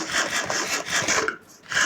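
Wood being chopped in a farm-building video game, heard as a steady run of rasping, scraping strokes that swell and fade in quick succession and briefly drop out near the end, with no talking.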